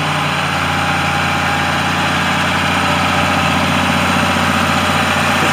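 A 1991 John Deere 2955 tractor idles close by with a steady, loud diesel rumble and a faint mechanical vibration that holds an even pitch throughout.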